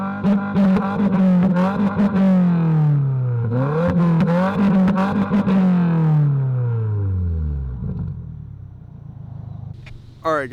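A Subaru VB WRX fitted with an Aeroflow Dynamics axleback exhaust revs close up, its loud engine note swelling through several throttle blips before a long falling decel toward idle.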